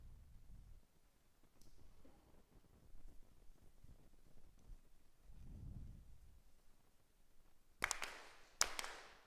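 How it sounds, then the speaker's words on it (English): Ceremonial hand claps at a Konko Daijin grand ceremony: a short series of sharp, crisp claps comes near the end, clear against an otherwise quiet hall with faint low murmurs before them. "4 sincere claps."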